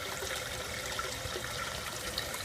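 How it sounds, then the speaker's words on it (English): Water from a home aquaponics system spills out of a pipe down toward a gravel bed, a steady, fairly faint trickling and splashing flow that runs continuously without voices. "Then the water overflows out of there to this pipe"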